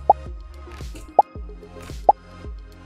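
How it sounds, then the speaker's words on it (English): Three short, bright pops from a Scratch sound effect fired as projectiles shoot, evenly spaced about a second apart, each a wet, plopping blip over a faint low hum. "Let's get the pop sound. We'd probably want it to pop around here as we're shooting."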